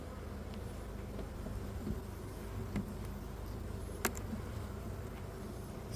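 Honey bees hum steadily and densely around an open hive during an early spring inspection in Melbourne, a continuous close drone with a few faint clicks and knocks.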